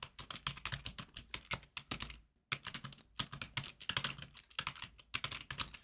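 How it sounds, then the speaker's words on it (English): Typing a prompt on a computer keyboard: rapid, close key clicks in a quick uneven rhythm with one short pause midway. "and I'll type in the prompt that I used."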